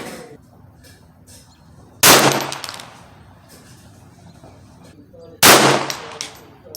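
Two sharp .22LR pistol shots from a Ruger Mark III at an outdoor range, spaced a few seconds apart, each a loud crack with a short ringing tail over faint background noise.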